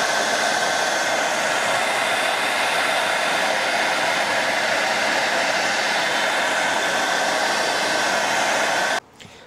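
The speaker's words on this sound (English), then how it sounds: "I'm just gonna grab a hair dryer and see what I can do." A hair dryer blows steadily on the exposed evaporator coils of an air conditioner after a freeze-up, a loud continuous whoosh that runs unbroken for about nine seconds before cutting off abruptly.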